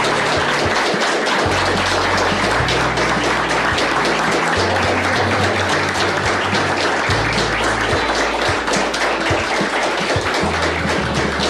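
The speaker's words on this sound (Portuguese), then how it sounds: "essas palavras, essas palmas não são para mim" Sustained applause fills the Brazilian Senate chamber, a loud, dense clapping that continues without pause for several seconds.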